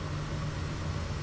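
A Kodiak aircraft engine in Microsoft Flight Simulator gives a steady, dense droning hum with a strong low rumble, continuous and even throughout, with no voices.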